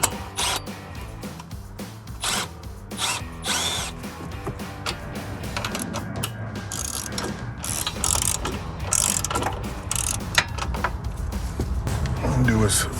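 A hand ratchet clicks in repeated bursts while 18 mm bolts and nuts are tightened on a Pedders adjustable front swaybar end link of a 2015-2025 Ford Mustang, close and fairly loud, with intermittent talk and background music.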